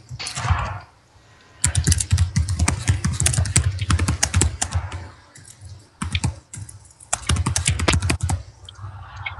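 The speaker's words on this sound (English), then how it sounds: "Somebody's hitting the keyboard really hard." Someone pounds hard on a computer keyboard, loud rapid clacking keystrokes in several bursts separated by brief pauses, close to the microphone.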